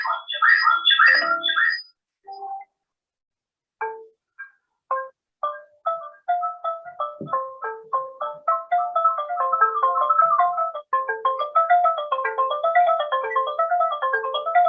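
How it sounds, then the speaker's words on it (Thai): A ranat, the Thai xylophone, plays clear struck notes, sparse at first and then a brisk running melody of bright, ringing bars, heard close and alone. "นี้เสียงระนาดนะอันนี้"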